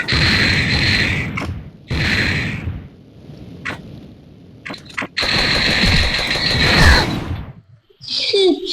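Bomb blasts in the Mini Militia mobile shooter game, several loud, booming bursts separated by short quieter gaps, with a sharp high-pitched crackle over each blast.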